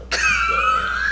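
A single cough bursts out close and loud, followed by a strained wheezy tone with no speech around it.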